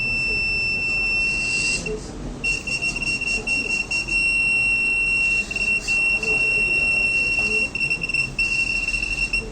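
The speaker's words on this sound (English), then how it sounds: "Coming to the metal indication, the continuous buzzer will be there," A continuous high-pitched electronic buzzer signals metal detection on a trash and recyclable sorting robot arm. It is loud and steady, with one short break near the start, over a background hum.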